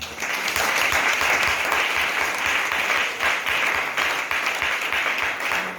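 A church congregation bursts into sustained, loud applause praising the Lord, many hands clapping in a dense, even roar that holds for several seconds with a few voices mixed in.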